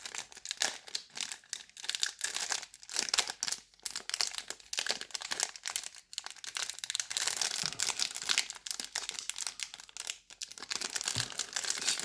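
Clear plastic Final Fantasy Magic: The Gathering booster packs being torn open and handled, giving continuous close crinkling and crackling of wrapper plastic with sharp tearing bursts throughout, no talking.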